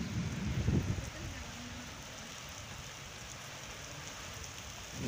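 Steady rain falls through a storm in Chattroh, Dadyal, Azad Kashmir, a continuous broadband hiss with low rumbling gusts, louder in the first second then even and unbroken for the rest.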